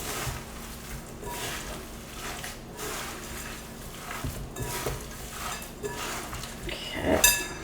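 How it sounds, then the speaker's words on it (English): Ground turkey meatloaf mixture is squished and mixed by hand in a bowl, a continuous soft, wet squelching that ends in a brief clink of the bowl, with no talking. "we'll just kind of squish it with our hands right into the bowl"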